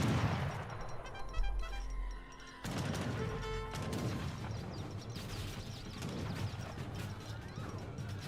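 Volleys of musket gunfire from the Age of Empires 3 real-time strategy game crackle densely and continuously over a busy battle din of clanks and crashes, with no pauses for the whole stretch.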